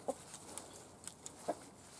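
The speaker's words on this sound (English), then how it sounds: "Got a chicken that lives in here now" A chicken living in a home garden gives a couple of short, soft clucks, fairly faint and spaced apart over quiet outdoor ambience.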